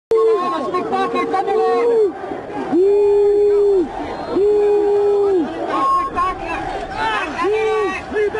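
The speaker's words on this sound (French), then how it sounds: "Il y a encore des huées qui retentissent en ce moment même." A large protest crowd at night boos and shouts, a loud sustained roar of many voices rising and falling in long swells of jeering and chanting, close and continuous.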